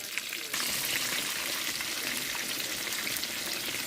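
Chicken fillets for a Burger King style sandwich fry in a pan with a loud, steady, close sizzle that swells after a brief quieter start.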